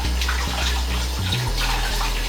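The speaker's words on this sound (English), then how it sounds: "so I'm just gonna wash my hands" Tap water runs steadily at a kitchen sink while hands are washed with gloves on, a continuous close splashing stream with no talk.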